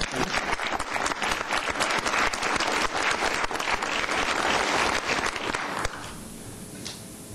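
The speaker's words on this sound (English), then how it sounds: "Let's give Brittany a big round of applause." An audience at a council meeting gives Brittany a round of applause, steady dense clapping for about six seconds that stops abruptly, leaving quiet room tone.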